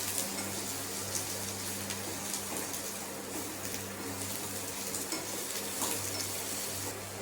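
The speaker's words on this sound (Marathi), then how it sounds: "सगळ्यात आधी आपण हे कांदा परतून घेऊ चांगला" Two medium chopped onions sautéing in a pan for dhaba-style shev bhaji, a soft continuous hiss and sizzle with faint stirring scrapes and a low steady hum, no talking.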